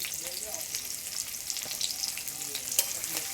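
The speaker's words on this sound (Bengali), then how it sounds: "সবগুলো একসাথে একটু হালকা করে ভেজে নেবো" Bele fish, crab and pumpkin frying together in a pan make a steady, close hiss of sizzling oil with small crackles and occasional light stirring ticks, continuous throughout with no talking.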